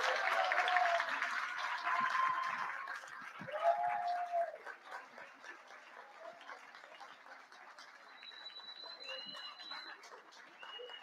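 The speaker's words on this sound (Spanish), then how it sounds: "Fuerte aplauso." An audience applauds at an award ceremony during a National Theatre Day commemoration at a book fair, a broad clapping that is fairly loud at first and then thins out, with bird-like chirps and scattered sounds over it.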